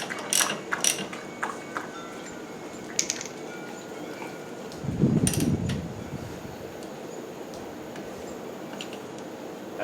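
Metal clicks and ratcheting from tightening a clutch fitting on a 1965 Campus 60 motorcycle, a few sharp ticks early on, then a louder low grinding burst midway over a steady background hiss.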